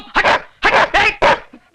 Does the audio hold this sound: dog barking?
yes